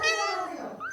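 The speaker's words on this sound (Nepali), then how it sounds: "बिरालोको बच्चाहरू" A single short, close kitten meow rises and falls in pitch, with a fainter second mew right after it.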